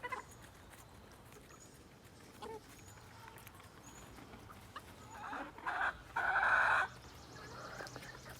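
Backyard hens clucking and murmuring, faint and spread out over quiet farmyard ambience, with a few brief louder squawks building toward a sharper burst near the end.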